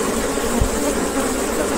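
A dense, continuous buzzing drone of many bees around a hive fills the clip, loud and close, with no talking.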